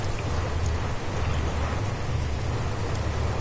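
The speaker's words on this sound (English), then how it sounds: "Nah, it's rain." Steady, dense rainfall in the No Man's Sky video game, a continuous hiss of drops with a low rumbling undertone, even and unbroken throughout.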